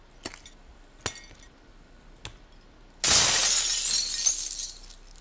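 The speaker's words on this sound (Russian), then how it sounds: "Здесь еще и стекло было, оказывается, я не заметил. Разобьем." Glass smashes in the puzzle video game Agent A: a few light clicks and taps first, then a loud bright crash of shattering glass with tinkling shards trailing off over two seconds.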